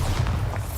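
A Bombarda explosion spell going off in Hogwarts Legacy, a short, loud, deep boom with a thudding low rumble, heard alone.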